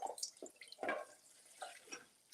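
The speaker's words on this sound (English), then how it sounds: "I've got about 2 cups of chicken broth here. So I'm going to go ahead and pour." Chicken broth, about two cups, poured into a pot, giving quiet irregular splashes and drips with a brief louder gush near the middle, close by and alone.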